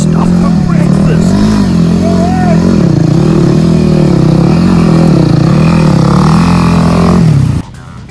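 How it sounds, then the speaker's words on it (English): A Yamaha WR250R adventure motorcycle rides over rough creek terrain, its engine droning loud and close with rising and falling revs for several seconds before cutting off abruptly near the end. "riding a Yamaha WR250R. That's an adventure bike."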